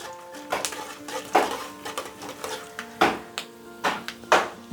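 Peanuts and chana dal fry in a pan, with repeated bright clatters of a spoon stirring against the metal over a soft continuous sizzle, the strikes coming at an irregular rhythm close by.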